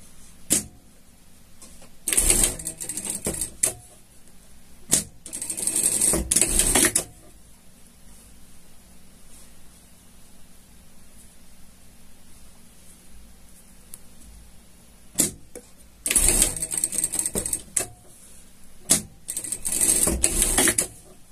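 A sewing machine stitches a hem on a behavioral pet harness in several loud, rapid bursts of whirring, separated by quiet pauses, with two bursts early on and two more near the end.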